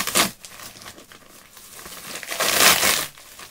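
Suction-cupped plastic packaging being ripped apart, a few loud crinkling and tearing bursts close by, with a big crackling tear near the end.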